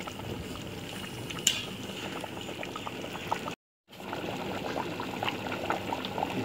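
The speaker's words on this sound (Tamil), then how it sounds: "இப்போ நல்லா கொதிக்க ஆரம்பிச்சிச்சு" A pot of water for chicken biryani at a full boil, bubbling and gurgling steadily up close, with a brief metallic clink and a short break of silence midway.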